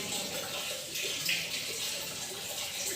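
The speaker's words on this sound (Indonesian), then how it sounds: "Saya masukkan air di sini." Water pouring steadily into a container of sugar to make a sugar solution, a continuous close hiss and splash lasting a few seconds without pause.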